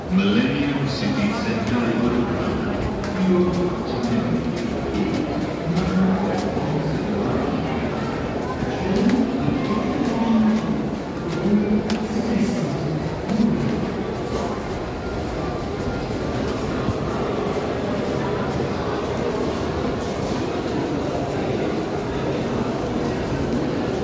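Delhi Metro train running through an underground station at Kashmiri Gate, a steady loud rumble and rolling hum throughout, with crowd chatter and voices mixed in.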